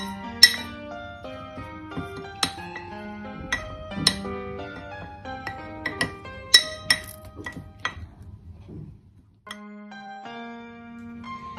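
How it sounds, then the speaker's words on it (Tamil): Honey stirred into a herbal immunity booster mix in a glass container makes close, bright, ringing clinks of a spoon against glass in an irregular run, with a short pause before it resumes. "இப்போ நம்ம ஹனி ஊற்றி மிக்ஸ் பண்ண ஆரம்பிச்சிடலாம்."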